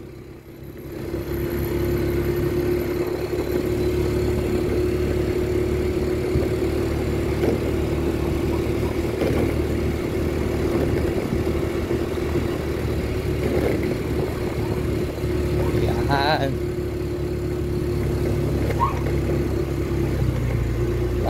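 A Yamaha Mio motor scooter engine drones steadily at close range for the whole stretch, with a broad rushing wash underneath as it rides through floodwater from a risen river.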